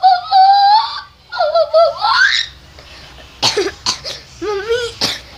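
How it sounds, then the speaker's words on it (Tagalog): A child coughs a few times in short bursts near the microphone, mixed with high playful vocal sounds and giggling in a quiet indoor setting. "Biglang uubo na gano'n"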